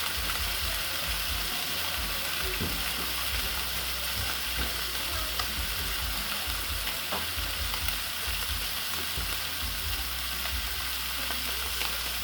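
Steak fries in a pan with a loud, steady sizzle and close spitting crackles throughout, without any talking.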